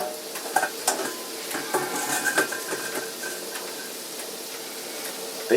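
A sausage patty fries in a cast iron pan, a steady broad sizzle with occasional sharper crackles and a soft scrape or two, close and alone.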